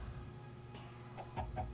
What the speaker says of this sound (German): Beispiel, eine Hühnerfarm.